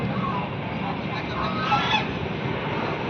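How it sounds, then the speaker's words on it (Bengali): Ducks honk and quack intermittently over steady outdoor background noise, moderately loud and fairly close, at Patna Eco Park, where boating takes place. "হাঁসগুলো আবার ডাকাডাকি করছে"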